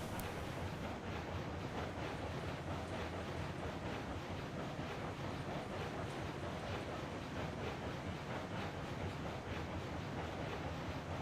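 A steam locomotive in a railroad video game chuffs at low speed, around eight miles an hour, as a steady, dense rush of exhaust noise with faint repeating pulses and no voices.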